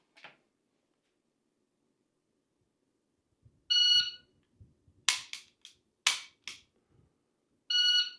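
Handgun shots fired with the support hand only on a range: a few sharp, loud reports in quick pairs, separated by electronic shot-timer beeps at the start and end.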